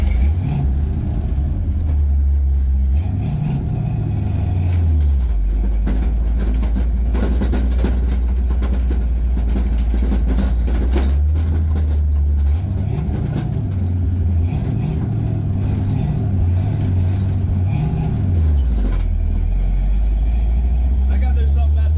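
A 1940 coupe's engine rumbles close up, idling and then revving through several rising and falling accelerations as it drives off with new rear gears. Loud road noise fills the cabin, and a voice talks over it.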